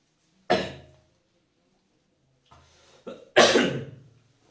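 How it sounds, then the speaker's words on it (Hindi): A person with a dry throat gives one harsh cough, then after a pause a softer throat rasp and two more close, forceful coughs, with silence in between. "गला उतना जल्दी सूख जाता है, तो फिर खांसी उठने लग जाती है ज़्यादा"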